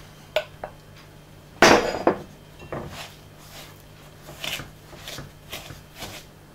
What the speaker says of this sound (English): Next, you need to cream your butter and sugar together.